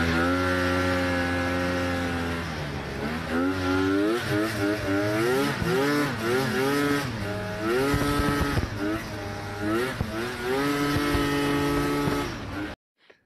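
A 1991 Polaris Indy 650 SKS snowmobile, whose engine is stated to be around 670 cc, runs nearby with a loud, buzzy two-stroke drone and is revved up and down repeatedly before cutting off abruptly.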